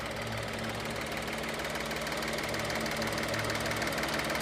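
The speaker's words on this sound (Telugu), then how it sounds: "ఒకసారి ఇంజిన్ సౌండ్ అయితే వినొచ్చు మీరు" A Maruti Alto K10 VXI+ AMT car engine, two years old, idles steadily up close, a continuous low rumble with a faint rhythmic knock and no voices over it.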